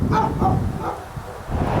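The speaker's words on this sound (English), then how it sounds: "Listen for the barks. Those are the dogs." Dogs bark at a house with many dogs: a few short, close barks and yips in quick succession over a low, muffled background.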